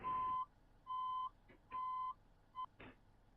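Reversing beeps from a delivery truck with automatic transmission, four steady electronic tones at an even pace, the last one short, followed by a faint clunk, close by with no talk.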